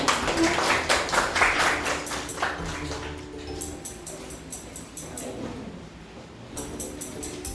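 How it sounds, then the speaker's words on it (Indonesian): Classroom applause for a student group about to present, heard as a burst of clapping from many hands that thins into a few scattered, rhythmic claps before a short final flurry, with faint voices underneath. "Tepuk tangan kelompok 3."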